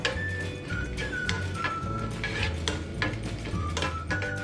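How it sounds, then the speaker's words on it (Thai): Dried chillies are dry-roasted in a pan for Thai roasted chilli paste with minced pork in a field kitchen, with continuous close scraping and stirring against the metal and faint high whistling tones running through. "เราก็คั่วพริกแห้งนะครับ จน ให้เขาแตกกลิ่นหอมนะครับ"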